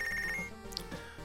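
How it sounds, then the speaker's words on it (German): A telephone rings in the boxing management video game Punch Club, with a short bright electronic ring tone over a low game music bed, brief and fairly faint. "Wieder ein Telefon."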